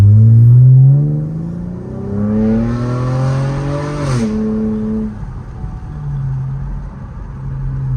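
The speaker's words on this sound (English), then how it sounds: "when we will be testing a car, please hold the steering wheel with the both hands" Car engine revving hard during a test drive, rising through gears with stepped pitch climbs, a brief peak near the middle, then settling to a lower steady drone.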